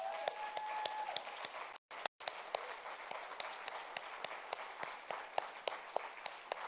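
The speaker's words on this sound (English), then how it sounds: "please, let's give them a round of applause" Applause from an audience at an Indigenous education summit, a steady patter of many hands clapping at moderate distance with brief dropouts, no speech over it.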